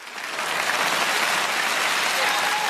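A comedy sketch (xiaopin) audience keeps up sustained applause, swelling briefly at the start and then holding loud and continuous from a packed theater crowd.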